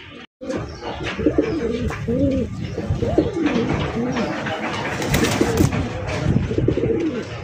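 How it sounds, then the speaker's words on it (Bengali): Breeding pigeons coo repeatedly, close and fairly loud, in overlapping rounds of soft throaty calls that continue without pause, with faint rustling and movement and little talk in the background. "মাশাআল্লাহ ডিম বাচ্চা করা রানিং কবুতর, আচ্ছা খুবই অ্যাক্টিভ।"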